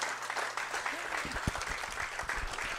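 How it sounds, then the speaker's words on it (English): An audience at an evening talk claps for a speaker, a moderate round of applause with a few louder individual claps and some murmuring voices underneath. "can we get a big round of applause for Carissa?"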